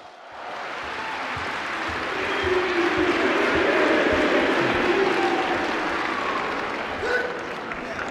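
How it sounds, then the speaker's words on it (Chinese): Theatre audience applause at a crosstalk comedy performance by Guo Degang and Yu Qian, a dense, sustained clapping that swells to a peak and then slowly eases off. "谢谢大家给我一个人的掌声"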